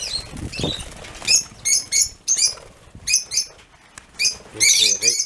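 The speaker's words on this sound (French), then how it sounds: "ce sont des roses-gorges. Une variété des inséparables." Rosy-faced lovebirds, a lovebird variety, on a rooftop terrace give bursts of wing flapping mixed with sharp chirps, close and intermittent over about five seconds.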